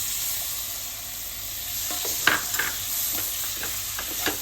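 Tomato being stirred while it fries in a pan with chilli powder, a soft continuous sizzle with a few scraping spoon strokes near the end, close and alone.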